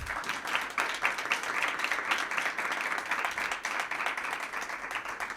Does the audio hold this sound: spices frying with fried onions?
no